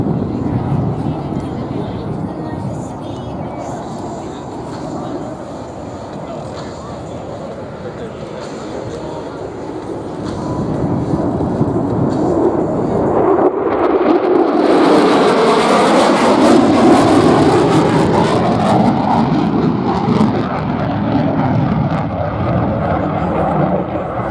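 An F-35 fighter jet passes at the Marine Corps Air Station Beaufort airshow in South Carolina, its roar swelling loud and broad partway through while an announcer talks over a continuous crowd and engine wash.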